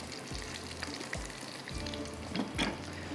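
Tikka boti shashlik pieces fry in a pan with a low, even sizzle and faint scraping as they are turned, quiet and close with no voices.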